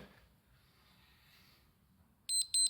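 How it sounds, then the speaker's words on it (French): Two short, high electronic beeps from a timer near the end, after a stretch of quiet low rumble and faint breathing-like noise during a circuit workout. "J'attends le bip."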